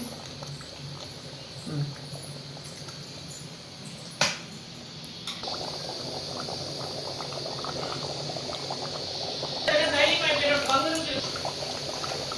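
Sambar simmers in a pot, a steady bubbling boil that grows louder and busier toward the end, with a couple of sharp clinks and a voice talking over it.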